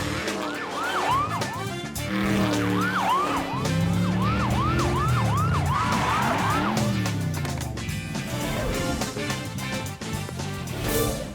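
A police car siren wails in rising and falling sweeps during a car chase in the animated series Transformers: Rescue Bots, loud and close, with engine roar and music around it.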